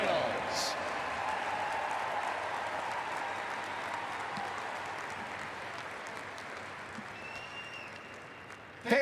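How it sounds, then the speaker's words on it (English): Sustained applause from a large crowd at a state band championship finals awards, a broad wash of clapping that slowly fades over several seconds, heard from a distance in a big space. "Fans, please, a huge round of applause for all of our competing groups"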